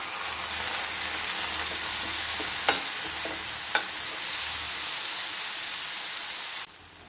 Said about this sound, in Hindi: आता भितर 2 मीडियम साइजचे टोमॅटो बारीक चिरून घेतल्या ते घालता।